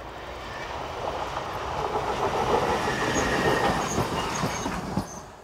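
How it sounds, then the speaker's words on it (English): Electric multiple unit 813007 rolls down a grade south of the town, a steady rumble of wheels on rail with light clicking and faint squeal swelling slightly through the middle, close and continuous with no voices. "To the south of the town, unit 813007 drops down the grade with the 1017 from Horná Stubnia to Previdza."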